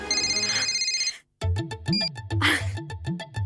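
A telephone ringing in a TV drama scene, a tonal electronic ringtone pattern that breaks briefly, then resumes with rhythmic repeating pulses, loud and close.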